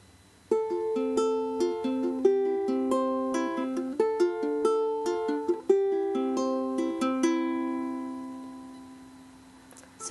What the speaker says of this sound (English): So that finger picking pattern is going to happen one time per chord.